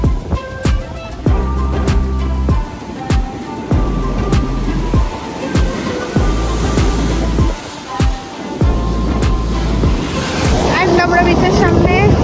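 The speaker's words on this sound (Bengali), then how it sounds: "আমরা এসে গেছি সমুদ্রের সামনে।" Sea waves wash continuously onto the beach at Puri, a broad surging rush that swells and recedes, mixed with intermittent sharp clicks and bumps from handling close by.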